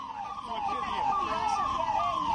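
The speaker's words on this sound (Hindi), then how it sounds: "आपको वहां पर एम्बुलेंसेस की आवाज आपको नजर आ रही होगी" Ambulance sirens wail at a plane crash site, several overlapping rising-and-falling tones sounding steadily at moderate distance over a low background rumble.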